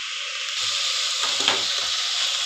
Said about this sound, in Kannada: ಶುಂಠಿ ಬೆಳ್ಳುಳ್ಳಿ ಪೇಸ್ಟ್ ಕೂಡ ಚೆನ್ನಾಗಿ ಹಸಿ ವಾಸನೆ ಹೋಗೋವರೆಗೂ ಫ್ರೈ ಮಾಡ್ಕೊಳ್ಳಿ